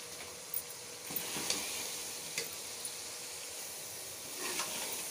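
Chickpea masala with biryani masala mixed in sizzles steadily in a pan, with scattered scraping stirs and light clicks over a constant soft hiss, heard close and quiet with no talk.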